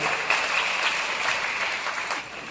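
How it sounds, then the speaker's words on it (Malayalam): An audience claps for students at a school ceremony, a steady dense round of applause that stays even and close for the whole short stretch before tailing off slightly. "നമുക്ക് നല്ലൊരു കൈയടി നമ്മുടെ മക്കൾക്ക് കൊടുക്കാം."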